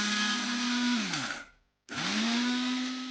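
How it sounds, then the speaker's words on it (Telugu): A mixer grinder whirs loudly, grinding garlic, tamarind, drumstick leaves and sesame into a powder, winding down and stopping briefly before spinning back up to full speed. "చింతపండు వేసుకొని మిక్సీ పట్టుకోవాలి"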